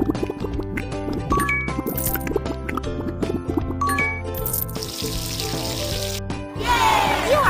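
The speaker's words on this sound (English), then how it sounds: "You must wash your hands." Cartoonish running water splashing and dripping as hands are washed in a kids' pony pet care game, set against bright plinking game music, with a steady gush near the end.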